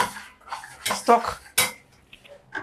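A spoon clatters and scrapes against a metal pot while ogbono soup with crayfish is stirred, a few close, sharp clinks and scrapes in quick succession.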